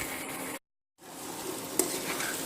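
Grated carrots stir-fried in ghee for carrot halwa sizzle steadily in a pan, with a brief silent gap and a single sharp clink of a spoon against the pot, close and fairly quiet.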